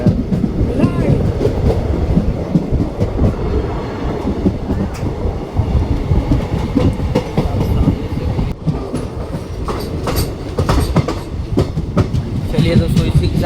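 The Ahmedabad Borivali Express runs on rails, heard from aboard as a loud, steady rumble with rhythmic clickety-clack wheel beats and occasional squeals as the train moves onto a station loop line.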